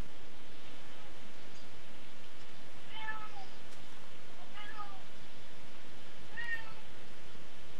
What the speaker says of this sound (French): J'entends un chat.